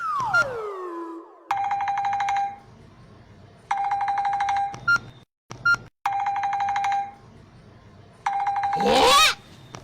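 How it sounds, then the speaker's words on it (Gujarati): A telephone rings in a comic home scene: a falling tone, then several long repeated buzzing rings separated by short gaps, with a burst of noise at the end, loud and close. "રીંગ કેમ આયા વાગે?"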